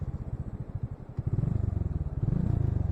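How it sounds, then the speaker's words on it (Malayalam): A motorbike labours up a slope over loose soil on a mountain road toward the Triyuginarayan temple, its engine thumping in a fast, close, uneven rhythm that grows louder as it strains. "ഇളകിക്കിടക്കുന്ന മണ്ണിലൂടെ ബൈക്ക് ആയാസപ്പെട്ട് മുകളിലേക്ക് കയറി"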